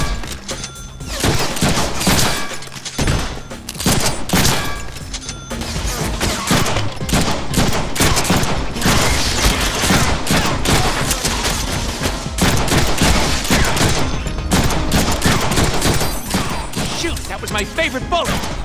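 Near-constant gunfire in the Deadpool video game, rapid machine-gun bursts and single shots piling up loudly over nearly twenty seconds, with occasional thuds and voices mixed in.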